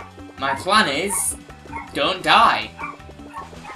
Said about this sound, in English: My dog barks so loud and she does it in such a high pitch.